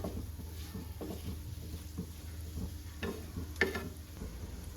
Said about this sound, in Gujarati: ધીમા ગેસની ફ્લેમ ઉપર કાચી કેરીના ટુકડાને એકદમ સારી રીતે સાંતળી લેવાના.